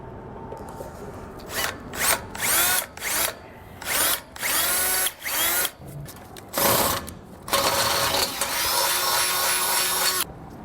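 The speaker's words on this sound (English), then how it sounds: "drill out these 2 holes on the side here using a 1/2-inch drill bit" A power drill with a 1/2-inch bit whirs through steel in repeated bursts, starting and stopping several times, then runs in one longer steady stretch, loud and close.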